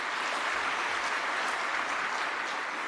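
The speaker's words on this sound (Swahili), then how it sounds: "na naomba tuweze kujipigia makofi." Sustained applause from an audience at a Tanzanian state dividend-handover ceremony attended by President Samia, a dense steady wash of many hands clapping at even loudness throughout.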